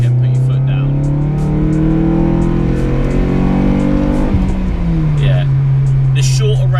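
An MG ZR+ 1.8 pulls hard in second gear, its engine note climbing steadily in a loud, close rising whine before easing off and dropping in pitch, with people talking over it.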